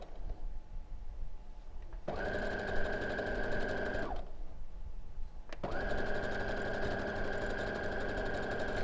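A sewing machine runs a long quilt seam in two sustained bursts of rapid, even stitching, separated by a short pause, close and fairly quiet with no talking.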